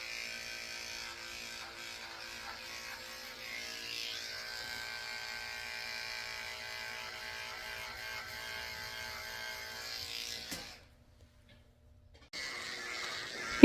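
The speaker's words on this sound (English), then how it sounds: "I had to come back with my 30 blade, which is extremely short, and shave out the corners of his eyes" Electric dog clippers fitted with a very short 30 blade shave close around the eyes of a poodle mix, a steady near buzz running continuously for about ten seconds before cutting out briefly and starting again.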